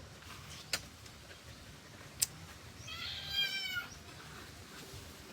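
A cat meows faintly from a distance, a short drawn-out call standing alone over quiet background noise, with a couple of sharp clicks before it.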